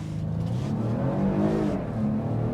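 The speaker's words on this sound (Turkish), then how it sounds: "O zaman dip gaz yaptım." A Porsche Panamera 4 accelerates hard at full throttle, its engine revving up in a loud, sustained rising drone heard from inside the car, with no talking.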